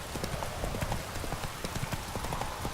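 Horse hooves in The Witcher 3 video game clip-clop at a steady trotting rhythm, close and clear over a constant background wash, with no talking.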